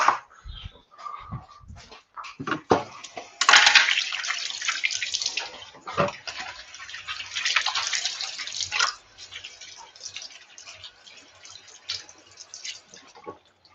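Water runs from a kitchen tap while hands are washed during home cooking, a splashing rush that swells and fades in two strong spells, with dripping and small knocks between them and no voices.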